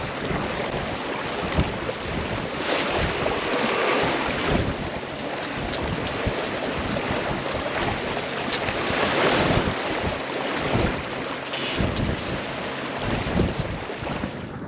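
Steady wind roars across the microphone on open water from a sailboat tacking near Hurst Castle, with waves rushing and hull noise underneath, continuous and loud throughout.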